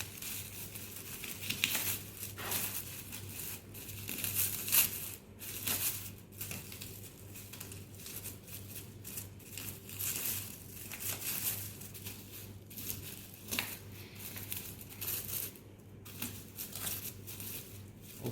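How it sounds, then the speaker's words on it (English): Knife cutting through red cabbage leaves for a pH indicator solution, giving repeated close crinkly crunches and crisp snips at an uneven rhythm, with no talking. "In order to make a red cabbage solution, we just need to cut it, just cut the leaves."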